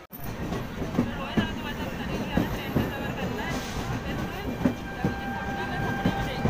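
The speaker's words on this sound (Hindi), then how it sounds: "हमारी ट्रेन आ चुकी है" A train rolls in at a station on a cold, rainy morning, with steady rumble, rhythmic wheel clatter on the rails and a faint high squeal, under continuous low ambient noise.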